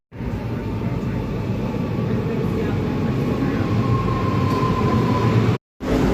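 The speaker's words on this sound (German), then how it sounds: "And at last we are at Frankfurt main station with the S-Bahn that was a bit delayed" Frankfurt S-Bahn train rolling into Frankfurt main station, a loud steady rumble and rail roar heard from onboard, with a faint tone rising partway through before the sound cuts out abruptly near the end.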